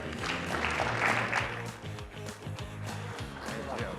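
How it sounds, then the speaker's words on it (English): An audience applauds a speaker at a technology showcase. The clapping is fairly loud and steady, with a denser burst early on, and it carries on under light voices. "Can I get another round of applause, please?"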